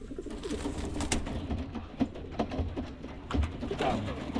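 Pigeons coo softly in a racing-pigeon loft, low throaty calls repeating irregularly over a busy rustling background with occasional thumps and some quiet voices.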